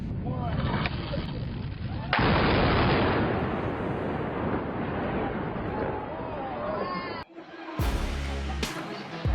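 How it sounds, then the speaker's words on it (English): Blasts from a controlled demolition of a building: a sustained, heavy rumbling roar with a sharp surge partway through and an abrupt cutoff near the end, with faint voices in the background. "a controlled demolition that is truly satisfying to watch"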